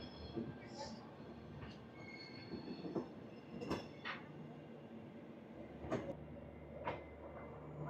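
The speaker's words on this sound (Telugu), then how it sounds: "మన ట్రైన్ అయితే స్టార్ట్ అయిపోయింది బికనీర్ నుంచి ఆన్ టైంకి" The Bikaner to Sealdah Duronto Express, train 12260, pulls out of Bikaner Junction with a low, faint rolling rumble, punctuated by periodic wheel clacks and brief squeals as it moves off.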